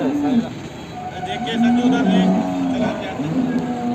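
A Murrah or Jafrabadi water buffalo lows in drawn-out moos over a steady background of voices and bustle at a buffalo market.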